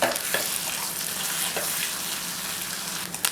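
Eggs are mixed in a bowl with chili powder, garam masala and salt, giving a continuous close scraping and sloshing noise with a few sharper clicks, and no voices.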